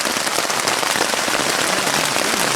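Heavy rain falls during a backpacking trip at Seneca Creek and Spruce Knob, West Virginia, a loud, dense, unbroken patter close around, with no voices.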